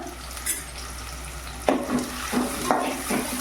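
Onion sizzling and frying on high heat in a pan after whole spices, for a spicy mutton rassa, with steady sizzle and several distinct spoon stirs scraping through it.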